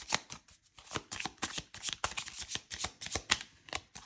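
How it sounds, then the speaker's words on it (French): Oracle cards being shuffled by hand, a steady run of crisp riffling slaps and flicks repeating several times a second, close and clear with no talking. "Allez, on va terminer avec 2 cartes de cet oracle-ci."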